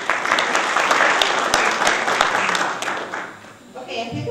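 Audience applause at a candidates' meet and greet: sustained, dense clapping from a crowd, steady for several seconds before thinning and tapering off, with a bit of chatter as it fades.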